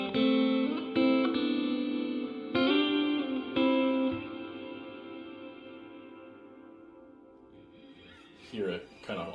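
Electric guitar chords played through a Donner delay and reverb pedal, with the tone control raised, ring out in a few struck strums and decay into a long reverberant tail, then a brief burst of picking near the end.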